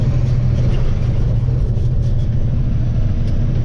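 Heavy low rumble from an empty big rig truck cab riding over a bump near Revere, a steady loud road drone with a deep jolting thud, continuous throughout.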